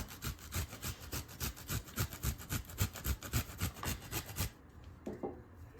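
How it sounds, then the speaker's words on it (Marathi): Fresh coconut is grated by hand over a plate of Maharashtrian kanda poha, giving a steady run of close, rhythmic scraping strokes that stop suddenly near the end, leaving faint kitchen clatter. "ह्यावरती थोडंसं ओलं खोबरं किसून टाकते"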